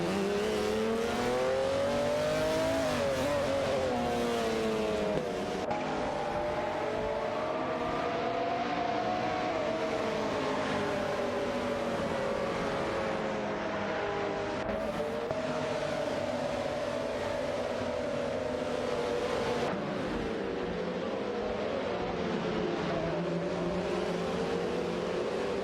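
Racing cars in an AI-driven auto race roar past in a steady, loud engine drone with wavering pitch as they speed by, continuous throughout with no talk.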